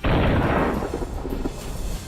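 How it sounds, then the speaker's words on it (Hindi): A loud, deep boom from Russian missiles blown apart by air defense, hitting sharply at the start and then rumbling and crackling as it fades over about two seconds. "एयर डिफेंस सिस्टम से रूसी मिसाइलों को मार गिराने के बाद धमाके दूर दूर तक सुनाई दिए"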